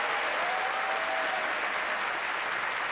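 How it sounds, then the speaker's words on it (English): Steady applause from a crowd, a dense even wash of clapping lasting a few seconds. "give yourselves a round of applause"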